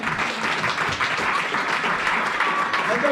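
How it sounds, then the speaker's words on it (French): A church congregation claps together in sustained, dense applause, an even wash of many hands that holds steady throughout, with voices mixed in beneath it. "Acclamez pour les protocoles."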